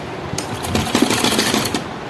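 A sewing machine stitches a blouse neckline, a loud close rattle of rapid needle strikes over a motor hum, pulsing unevenly for about two seconds.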